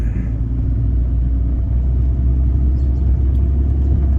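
Car driving through a residential neighborhood, heard from inside as a steady low engine and road rumble with no talk.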